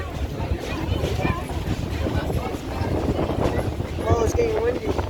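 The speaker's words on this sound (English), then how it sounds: "Oh, it's getting windy." Wind rushes steadily past a Blue Ridge southern railroad train ride, a moderate breathy roar with low rumble underneath and faint distant voices mixed in.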